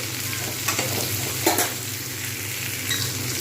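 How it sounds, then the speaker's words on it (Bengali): Tomatoes fry in a pan of oil with cauliflower and potatoes for a cauliflower egg curry, producing a close, continuous sizzle with a few scraping stirs of a utensil against the pan. "অটোমেটিক্যালি কিন্তু টমেটো ভাজা হয়ে যাবে এতে"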